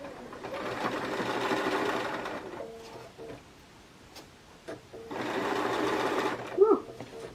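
A home sewing machine runs in two bursts of steady, rapid stitching, close and fairly loud, separated by a quieter pause with light clicks and handling noises; a sharp click marks the end.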